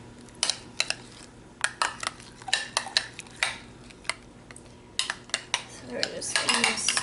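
Softened cream cheese stirred in a dish, a metal utensil clinking and scraping against it in a quick run of sharp, close taps and scrapes, alone with no talk.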